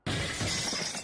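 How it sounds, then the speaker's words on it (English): Glass shatters loudly in a competitive video game match, a sudden crash at the start followed by a bright, scattering tinkle of shards that fills the rest of the short moment with no voices. "Wow, that glass breaking."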